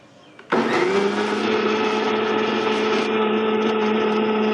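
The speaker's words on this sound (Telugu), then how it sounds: "మిక్సీలోకి తీసుకున్న ఉల్లిగడ్డని మనం గ్రైండ్ చేయబోతున్నాం" A kitchen mixer grinder switches on abruptly and grinds onion, a loud steady high motor whine with a rough churning edge that holds on without pause after a brief quiet start.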